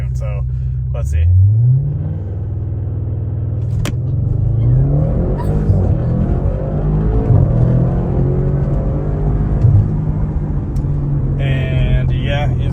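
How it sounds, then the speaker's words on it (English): An Audi RS6 with an APR intake and tune accelerates through the gears, a deep close engine rumble whose pitch climbs and drops with each shift, with a voice talking over it. "it feels like it pulls harder through the gears than it did before"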